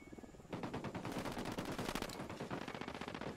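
Sustained automatic gunfire from a soldier's rifle in the tactical shooter Ghost Recon Wildlands rattles out as a rapid, dense, loud burst that runs steadily for several seconds after a brief quiet lead-in.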